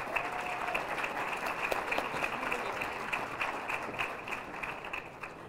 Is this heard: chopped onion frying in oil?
no